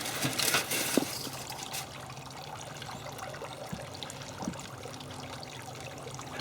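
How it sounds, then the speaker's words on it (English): Warm water pours from a pitcher into a foil-lined pan inside a Weber Smokey Mountain smoker, a soft, close trickle that splashes louder at first and then settles into a gentle, even stream. "And now I just filled the pitcher up. You want to use nice warm water."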